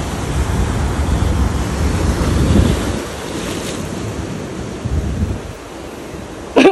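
Storm surge waves crash against rocks where people are fishing, a loud churning roar under heavy wind buffeting, with a brief shout at the very end.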